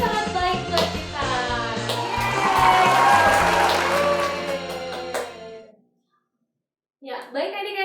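Applause from a crowd at a children's online church service, a dense burst of clapping with children's voices and singing mixed in for about five seconds, then a short silence before more sound resumes.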